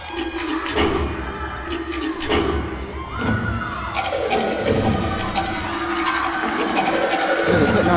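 Arena crowd at a women's college gymnastics regional meet in Tuscaloosa cheers and shouts steadily for a gymnast's floor routine, loud and sustained with swelling bursts and a few thumps, no talking over it.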